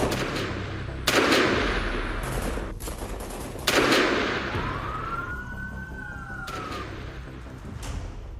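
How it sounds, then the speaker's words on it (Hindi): Several loud gunshots from a shootout near the White House in Washington, D.C., ring out at irregular intervals, sharp and echoing, while a siren wails faintly in the background between bursts. "अमेरिका की राजधानी में दनादन गोलियां चल रही हैं।"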